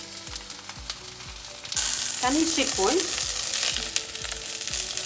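Chicken fillet seasoned with salt, pepper and oregano sizzles steadily in a pan, with repeated scraping stirs and a louder burst of frying partway through; a voice speaks briefly.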